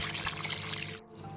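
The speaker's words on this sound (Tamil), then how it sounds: "தண்ணி சேர்த்துக்கணும்." Water poured into a pot holding chicken and rice for kabsa, a steady splashing rush close by that continues throughout, dipping briefly near the end before resuming.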